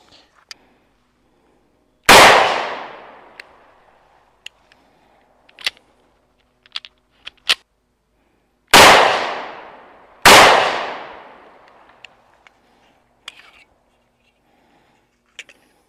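Three sharp, loud gunshots from an ATI Moxie FXH45 hybrid 1911 .45 pistol ring out, each with a long decaying echo, separated by quiet gaps filled with small clicks and handling noises.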